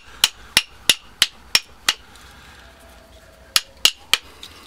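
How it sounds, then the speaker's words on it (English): Hammer knocking copper windings out of an electric motor core, six quick metallic blows in a steady run, a pause, then three more, close and ringing. "hold the metal and knock the copper out the middle"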